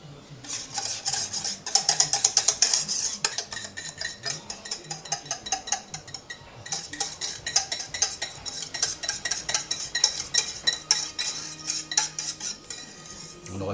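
A utensil repeatedly scrapes and clinks against a baking dish while béchamel sauce is spread over ham-wrapped endives, making quick rhythmic tapping strokes in bursts with a short pause midway.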